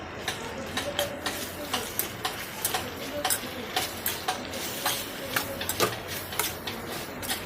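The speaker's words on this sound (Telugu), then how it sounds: "ఆ కారం మొత్తం ఈ కూరగాయలకు పట్టాలి కాబట్టి బాగా కలుపుతూనే ఉండాలి" Vegetables being stirred with salt and green chili paste in a pan for Telangana-style pindi charu: steady scraping and ticking of a spoon against the pan, repeated in quick, fairly even strokes with no talk.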